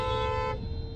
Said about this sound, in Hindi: और लोग यहाँ पे हॉर्न बजा रहे हैं,